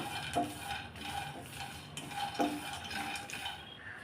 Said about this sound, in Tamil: இப்போ இந்த வேர்க்கடலையை நல்லா வறுத்து எடுத்துக்கலாம்